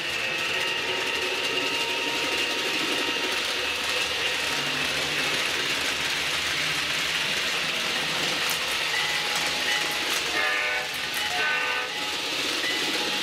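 A Dash 840-CW wind-up clockwork model runs continuously well above scale speed, giving a steady whirring, ratcheting mechanical drone with faint clicking throughout, close and fairly loud.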